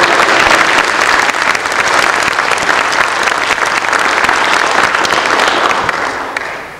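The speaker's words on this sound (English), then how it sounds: "Round of applause for Mr." Loud, close round of applause from an audience at a Boy Scout Eagle court of honor, dense continuous clapping that holds steady before tapering off at the end.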